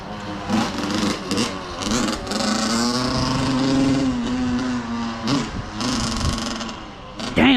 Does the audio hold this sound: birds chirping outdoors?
no